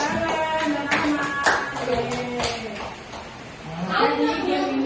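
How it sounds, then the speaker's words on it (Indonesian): A room of special-needs high school students at a classroom game break into scattered clapping for the top-scoring group, light and uneven, mixed with overlapping voices and chatter throughout. "tepuk tangan"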